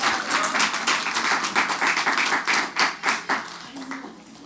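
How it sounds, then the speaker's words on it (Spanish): A church congregation at a Sunday service claps for its worship ministry, dense rhythmic hand claps close and loud, loosening into uneven bursts before a brief voice near the end. "Quiero pedirles que le demos un fuerte aplauso de honra al Ministerio de Alabanza"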